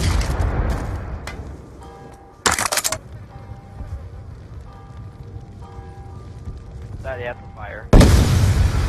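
Black Ops 2 Search and Destroy match on the Slums map: a sudden loud grenade blast near the start, quiet buzzing ambience and brief talk, then a second heavy explosion near the end.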